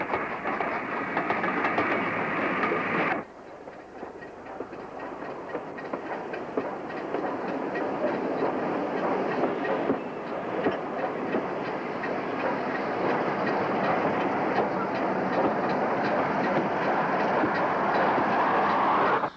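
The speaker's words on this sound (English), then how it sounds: "where the motor train will join the main line to Chorley" A motor train runs steadily on the rails with a continuous rumbling roar and rhythmic clickety-clack, sounding close by and loud throughout, with no voices.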